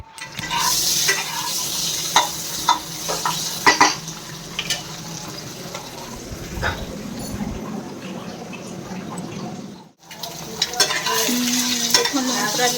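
Boiled eggs fry in oil with salt, turmeric and chili, giving a steady close sizzle broken by scraping stirs and clinks of a spatula against the pan, with a brief dip before the frying resumes.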